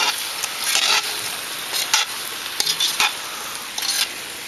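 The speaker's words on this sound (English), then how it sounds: "So I'm gonna flip it around a little bit with my tongs." Root vegetables sizzle and hiss on a Big Green Egg grill while metal tongs scrape and clack as they are flipped, with close, steady frying noise and a few sharp contact clicks.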